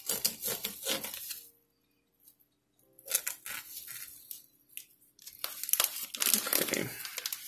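A ground beef package is cut open with crinkly plastic tearing and crumpling in close, irregular bursts separated by short quiet gaps, with no voice.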